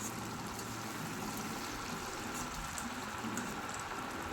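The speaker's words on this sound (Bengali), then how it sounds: "মাছের মুড়োটাকে আরও একটু ভেজে নেব যাতে ভেতরটাও হালকা লালচে হয়ে যায়" Hilsa fish head with turmeric frying in hot oil, a faint steady crackle and hiss that holds even throughout with no voices.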